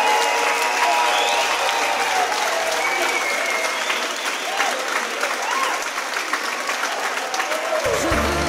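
Sustained audience applause fills the hall at the finale of a live charity talk show, dense and steady throughout, with crowd noise and a faint voice near the end.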